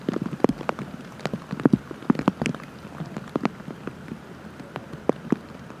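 Rain pattering on a golf course during a girls' junior match-play semifinal, scattered close drops tapping irregularly over a soft steady wash, with no talk.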